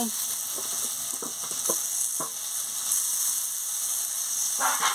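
Minced meat frying in a pan with potato, eggplant and onion, a steady loud sizzle with occasional scraping and stirring clicks throughout.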